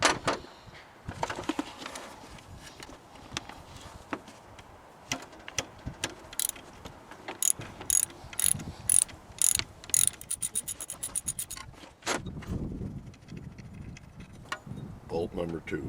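A ratchet wrench clicks in quick bursts while a 13 mm alternator bolt is loosened on a Chevy truck, the rapid metallic ticking close and repeated through most of the stretch with some clanks.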